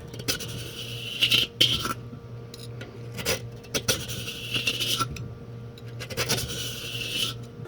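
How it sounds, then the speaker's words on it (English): A scraper rasps over crud inside the bowl of a Weber charcoal grill in repeated bursts of close, metallic scraping separated by short pauses. "your scraper, if held flat, which that time it wasn't, will take off a nice 2-inch wide stripe of crud"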